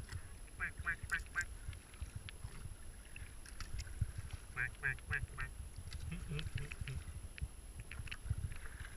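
Ducks quack on the Avon/Swan River during a canoe or kayak trip, with repeated quacks in short bursts over the slosh and splash of paddling, against a steady outdoor background.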